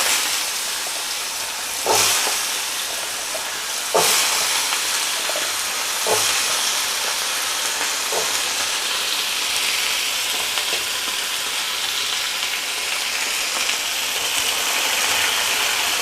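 Potatoes frying in a pan with curry leaves and urad dal, giving a steady, loud sizzle and hiss with a few sharp clatters from stirring.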